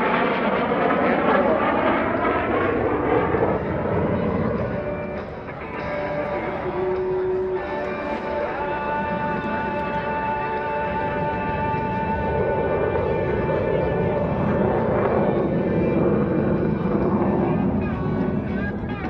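F-16CJ Fighting Falcon fighter jet rolling during an Air National Guard airshow demonstration, a continuous loud engine roar sustained throughout, with a brief dip midway, under an announcer's talk over the PA.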